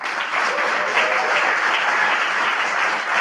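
Sustained applause from a crowd at a bill signing fills the air, a dense, even wash of many hands clapping that stays loud and steady throughout, with no voices over it.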